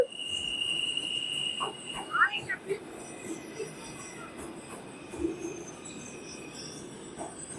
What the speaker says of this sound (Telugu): ఇది మరి అండర్ గ్రౌండ్లో ఉంది మెట్రో.